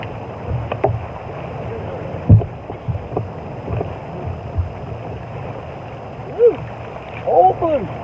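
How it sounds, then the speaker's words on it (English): Strong wind buffeting a fishing boat out on the water, a low rumbling roar against the microphone with irregular gusty thumps and bumps, close and loud. "We got 100 mile an hour wind"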